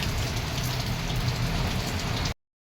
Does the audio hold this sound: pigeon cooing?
no